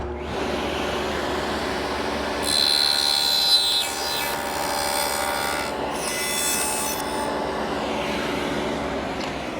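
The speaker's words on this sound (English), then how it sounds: "Here's the setup for the first pass to form the tenon. Stacked dado, sacrificial fence, and my miter gauge." A table saw fitted with a stacked dado blade and sacrificial fence cuts a tenon in wood guided by a miter gauge, a loud steady whirring grind with a rising cutting tone in the middle, heard close and alone.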